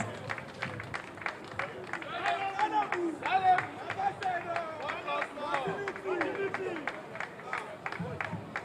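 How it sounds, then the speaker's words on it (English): Crowd applause at a Lagos housing commissioning ceremony in Ibeshe, Ikorodu, with steady dense clapping mixed with crowd murmur and voices throughout. "He deserves our applause."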